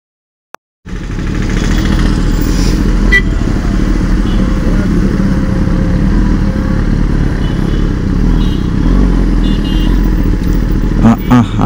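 A Kawasaki ZX-10R superbike engine starts after a brief silence and runs loud and close, a steady rumbling idle with some mechanical clatter, no one speaking over it.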